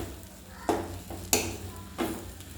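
Rava kichadi being stirred in a pan, with a soft continuous scraping and three sharper scrapes of the spoon against the pan spaced roughly half a second apart, close and fairly quiet.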